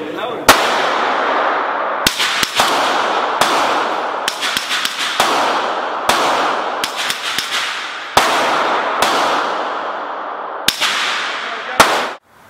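Suppressed 9mm pistol fire through a titanium Liberty Infiniti suppressor at an outdoor range: a dozen or so sharp, muffled cracks in an irregular string, each followed by a brief ringing decay, with faint background murmur between shots.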